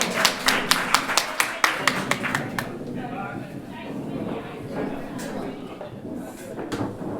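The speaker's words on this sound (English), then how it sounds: "Applause for all of you." Audience at a youth forum claps along in a quick, rhythmic series of sharp claps, then breaks into looser, softer scattered clapping with voices talking over it.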